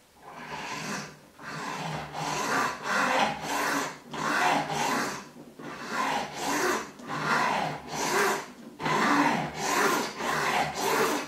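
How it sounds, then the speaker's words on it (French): Rhythmic back-and-forth rasping of a hacksaw cutting grooves, steady strokes repeating about twice per second, close and loud with no talking. "grâce à la scie à métaux, on va créer deux gorges"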